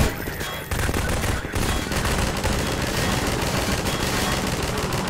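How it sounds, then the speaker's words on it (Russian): Sustained gunfire in the co-op video game Half-Life 2 Synergy, a dense, continuous barrage of rapid shots that fills the whole stretch at high loudness. "А я пока пойду в них постреляю."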